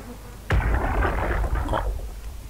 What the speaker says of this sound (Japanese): ハエの音が聞こえる